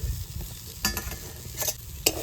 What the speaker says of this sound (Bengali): খাকুল পাতা ভাজা হয়ে গেছে এবার তুলে নেব